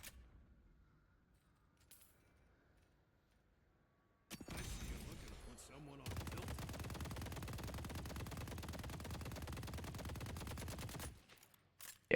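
Rapid automatic gunfire from a weapon emptying its magazine in the game Deadlock rattles in a dense burst of about five seconds, preceded by a few scattered shots and quieter clatter, then cuts off abruptly.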